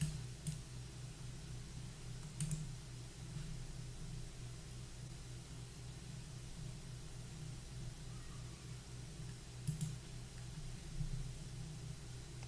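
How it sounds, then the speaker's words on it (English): Faint intermittent clicks and ticks sound in a studio at irregular moments over a steady low hum and hiss, sparse and quiet, with no voices. "I hear some clicking."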